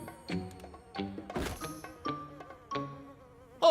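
A fat fly buzzes in a cartoon, its wavering drone rising and falling in short bursts with brief pauses, close and fairly loud, alongside light cartoon sound effects and no speech.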